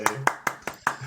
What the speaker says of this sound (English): Do I have a clap sound thing here?